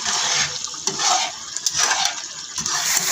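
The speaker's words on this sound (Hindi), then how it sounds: "ऑयल छूट गया है और ये ज़बरदस्त सी भुनाई हो रही है" Chicken tawa chaap sizzles in oil on a hot tawa, a loud continuous hiss and crackle with occasional clinks of a utensil against the pan.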